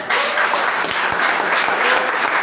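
A church congregation applauds during a Spanish-language sermon, giving steady, dense clapping that sounds close and full.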